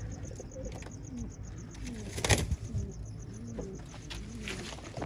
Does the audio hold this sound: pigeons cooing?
yes